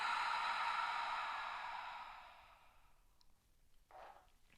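A long, soft exhale through the mouth during gentle restorative yoga, a broad breathy rush that fades over about three seconds, followed by quiet with a faint brief breath near the end.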